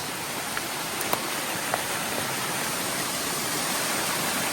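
Water spills over rocks in a waterfall, a steady, broad rushing hiss close by with a few faint clicks, and no voices.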